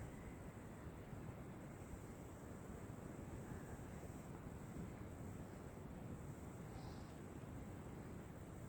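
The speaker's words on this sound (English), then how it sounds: "The wind's picking up here." Steady wind gusting across an outdoor porch, a constant broadband rush with no distinct peaks, heard alone without voices.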